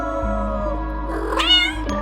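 A cat yowls in a drawn-out, wavering caterwaul, used as a sound effect in a Spanish-language horror story, loud and close over a low steady hum with no talking.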